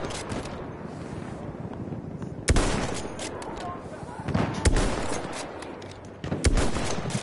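Battlefield 1 gunfire crackles through steady wartime battle ambience, with sharp, louder shots near 2.5, 4.7 and 6.4 seconds over a constant bed of distant fire and noise.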